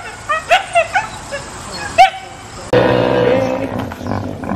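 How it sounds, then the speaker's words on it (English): A fox gives a string of sharp, high yelping cries in quick succession, then a harsher, sustained raspy scream, all loud and close. "Screaming fox."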